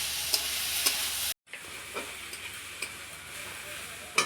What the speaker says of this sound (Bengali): হালকা ফ্রাই করে নেব, তাহলে খেতে ভালো লাগবে।